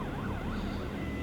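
Police or ambulance siren wailing in rising and falling sweeps, steady and fairly loud over a broad rumble of traffic or wind, with no one talking.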